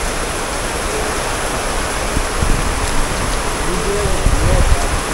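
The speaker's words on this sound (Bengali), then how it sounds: "বৃষ্টি তো কমে না, আর উল্টা বাড়তেছে।" Heavy rain pours down steadily in a broad, loud hiss that grows slightly heavier toward the end, with faint low thumps and bits of background activity underneath.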